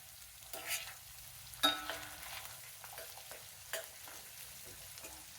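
Onion pieces, green chilies and curry leaves sizzle softly in tempering oil, a faint, quiet crackle with a few light scraping stirs spaced through the moment.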